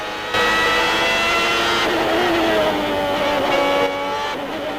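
A 1992 Formula 1 race car at the Japanese Grand Prix screams at high revs, its engine pitch sliding down and climbing again through gear changes, loud and continuous.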